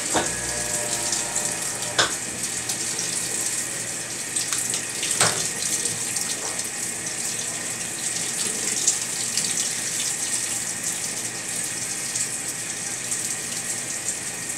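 A Maytag Bravos washing machine fills with water for a deep wash cycle, giving a steady, loud, close gushing rush with occasional splashes and no talk.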